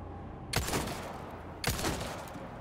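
Two loud gunshot bursts in Resident Evil 4 Remake, about a second apart, each a sharp crack trailing into a short rumbling echo, with no voices.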